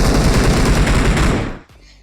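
Rapid automatic gunfire in the mobile shooter BGMI, a loud dense burst of shots over a couple of seconds that cuts off abruptly near the end.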